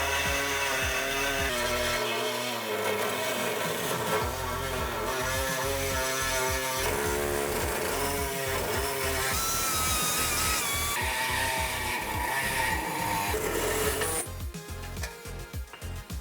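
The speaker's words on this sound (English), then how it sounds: "cut through this bracket, and then right across to the other side" A power tool grinds loudly and continuously through a metal frame bracket on a 2010-2014 Ford F-150 Raptor during a suspension lift, its harsh whine shifting in pitch before easing at the end.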